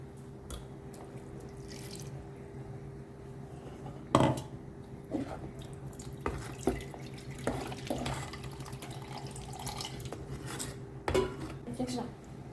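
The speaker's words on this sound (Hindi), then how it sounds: "तो अब इसे अच्छे से मिक्स करते हैं।" Goan-style chicken xacuti gravy being stirred in a pan, heard as irregular clinks and scrapes of a spoon against metal, some sharp and close, over a faint steady background hum.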